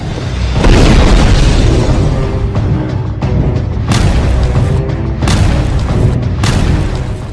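Heavy booming blasts from a Hezbollah attack on the Israeli army, several deep explosions in quick succession with rolling rumble between them, loud and close enough to saturate the sound.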